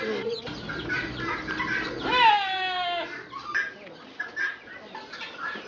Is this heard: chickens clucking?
yes